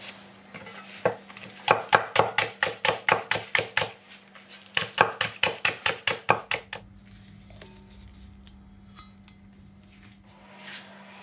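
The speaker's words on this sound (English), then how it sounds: "we're gonna chop up all the rest of the ingredients to mix in the minced pork" Spring onions are chopped with a knife on a board in a home kitchen, rapid loud knocks in two quick bursts of about a dozen strokes each, then quieter handling sounds.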